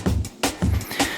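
Layered drum breaks, two breaks combined, play as a short funky loop of thumping kicks and crisp snares, dense and upfront with no talking.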